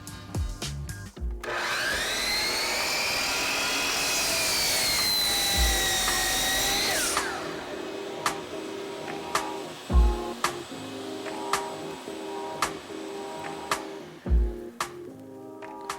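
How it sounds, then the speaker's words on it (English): A chop saw whines loudly for several seconds as it cuts, then stops, leaving a shop vac triggered by an automatic switch running on afterwards amid scattered knocks and clatter from the workshop. "but when I let go of the chop saw, you'll definitely hear the shop vac run afterwards."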